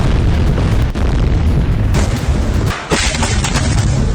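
Tank cannon shells exploding in central Gaza during an urban assault, heard as a loud, continuous rumbling barrage of booms with a few sharper bursts standing out, no voices present.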